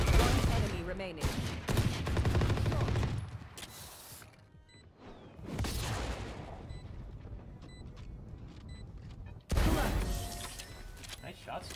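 Gunfire in the Valorant video game, with bursts of shots in several loud clusters separated by quieter stretches, close and sharp.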